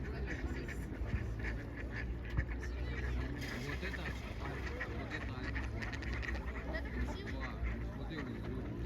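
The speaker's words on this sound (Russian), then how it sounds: "А вообще уточек целая запруда." Ducks quack intermittently from a pond against a busy outdoor background, with people talking faintly nearby.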